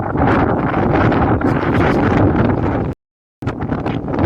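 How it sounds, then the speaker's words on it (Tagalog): Strong wind from a typhoon in the China sea roars across a ship's deck and buffets the microphone continuously, cutting out briefly before the gusting resumes. "Medyo malakas pa rin ang hangin, kaya naririnig nyo naman siguro sa sounds ng tunog ng hangin"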